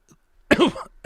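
A single harsh cough bursts out close by, followed a moment later by the start of another cough.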